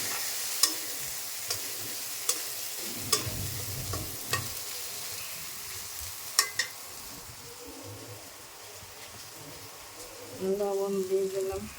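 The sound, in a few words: frying coriander and cumin powder spices for fish curry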